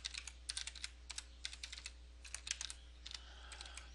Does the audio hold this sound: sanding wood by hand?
no